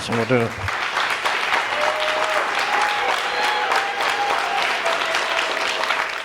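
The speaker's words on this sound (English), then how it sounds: "Please stand up and give a standing ovation." Standing ovation at a world congress on Qigong and traditional Chinese medicine, dense sustained applause from a large audience filling the hall, steady and loud, with a brief voice at the very start.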